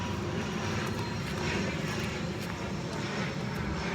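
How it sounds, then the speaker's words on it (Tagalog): An airplane flies overhead in Barbados with a steady, broad engine roar that fills the whole stretch. It is moderately loud and unbroken, and there is faint background talk. "Kaya lang may aeroplano."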